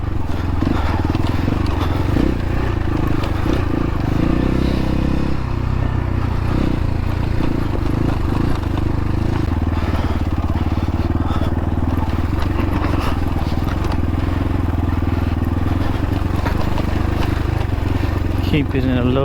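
Dirt bike engine running steadily through a canyon trail near Florence, Arizona, a loud continuous drone with clatter from the terrain and a rider's voice over it.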